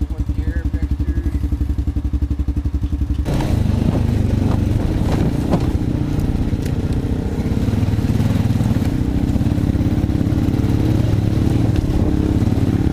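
A stock Honda Rancher ATV engine runs close by, a rough rapid putter that jumps to a louder, harsher roar a few seconds in and keeps going, with voices talking over it.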